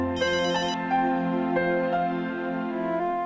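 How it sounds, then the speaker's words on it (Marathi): A phone ringtone plays for an outgoing call, a steady electronic melody with a brief bright chime near the start, clear and fairly loud with no talk over it. "लाव, तात्या काकांना फोन लाव."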